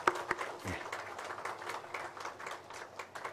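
A church congregation at Sunday worship claps to welcome a visiting family, fairly quiet scattered applause with a few distinct nearby claps at the start, continuing loosely throughout.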